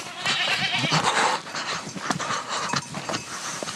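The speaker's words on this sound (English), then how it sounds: "I'm terrified of goats. I hate them so much." Goats bleat loudly and close by, their repeated wavering cries overlapping in a busy farmyard.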